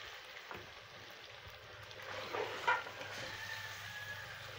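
Tamarind paste hits a pan of baby potato masala, giving a soft, continuous sizzle with a brief swell and a faint clink partway through, quiet and without talk.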